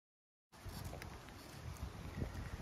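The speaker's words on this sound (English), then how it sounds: "I mean, the wind is whipping." Strong wind blows outdoors on a freezing day, a steady, close roar of gusts buffeting the microphone. It begins abruptly after a moment of silence and continues without speech.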